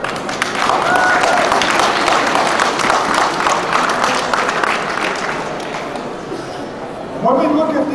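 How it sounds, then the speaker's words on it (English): A crowd at a volunteer ambassador graduation at Toronto City Hall gives a long round of applause, dense and sustained before tapering off, followed by a voice starting to speak. "that's something to give yourselves a big round of applause for"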